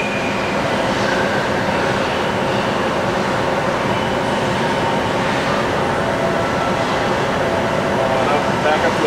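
A Milltronic HBM 4 CNC table type horizontal boring mill from 2010 runs its spindle at 500 RPM, giving a steady, dense mechanical hum and whir that holds constant with no break.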